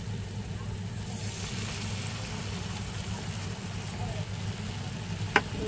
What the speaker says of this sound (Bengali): দিয়ে ভালো করে নাড়াচাড়া দিয়ে মশলাটা আর একটু কষিয়ে নেব